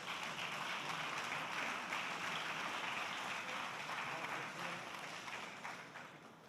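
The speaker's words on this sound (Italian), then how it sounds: "An applause for our special guests." Audience applause for guests at a round-table event, a steady faint wash of clapping that holds for several seconds and tapers slightly at the end.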